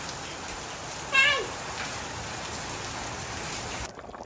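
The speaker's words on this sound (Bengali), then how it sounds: "বাইরে বৃষ্টি হইতেছে," Heavy rain with hail falling outside, a steady dense hiss throughout that cuts off near the end, with a brief cat meow partway through.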